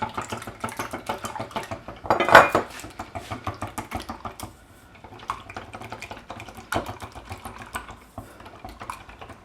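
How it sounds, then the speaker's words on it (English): Milk and melted butter for pancake batter are whisked in a bowl, producing fast, rhythmic clicking and tapping strokes against the sides, close and moderately loud with one brief heavier clank, and no talking. "Just gonna whisk everything in."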